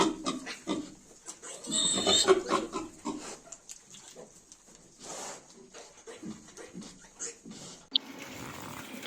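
Month-old Vietnamese pot-bellied piglets grunt and snuffle close by in a pen, a busy run of overlapping soft oinks and snorts with a brief sharp squeal near the end.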